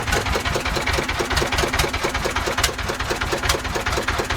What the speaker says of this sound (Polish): Stary traktor!